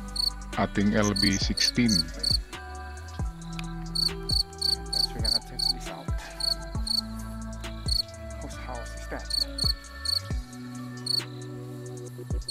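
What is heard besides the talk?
crickets chirping at night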